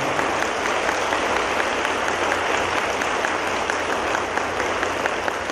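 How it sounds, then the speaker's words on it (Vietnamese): Sustained, dense applause from a large audience at a Buddhist gathering, loud and steady for the whole stretch with no voices over it. "Xin quý vị hoan nghỉ cho một tràng pháo tay"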